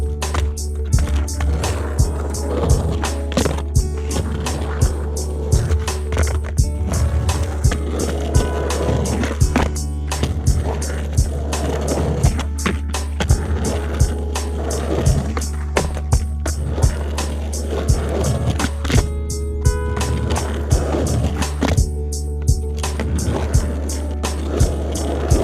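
A skateboard grinds and rolls on beer-can coping lining a DIY concrete ditch, with a steady wheel rumble broken by repeated sharp clacks and pops of the board hitting the lip throughout.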